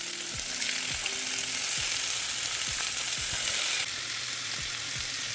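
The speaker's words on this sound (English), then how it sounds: "Now it's time to add all of your chicken to the frying pan." Chicken pieces searing in cooking oil in a frying pan, giving a steady, bright sizzle with light scraping and stirring knocks underneath, and no voices.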